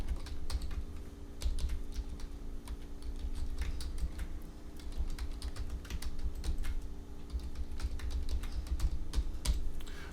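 Steady, brisk typing of code on a computer keyboard, with dense clicky keystrokes running through the whole stretch over a low background hum, close and fairly loud.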